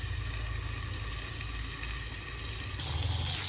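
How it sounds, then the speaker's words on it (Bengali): Fish frying in a covered pan on high heat, a dense steady sizzle with a brief louder burst near the end, no talk. "এবার এটাকে আমি ঢেকে দিই, ঢেকে ঢেকে ভেজে নিই এটাকে।"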